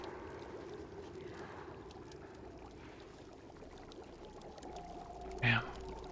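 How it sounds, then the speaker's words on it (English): Acid bubbles and gurgles steadily in the video game The Outer Worlds, a constant watery churn that carries on throughout, with one brief louder splash near the end. "That fucking acid bubbling sound is so noisy."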